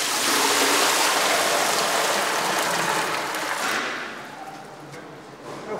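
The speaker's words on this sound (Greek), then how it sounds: "στην αρχή βάζουμε το νερό." Water pours steadily into a cauldron on Syros for making loukoumi, a loud rushing splash that thins and fades toward the end.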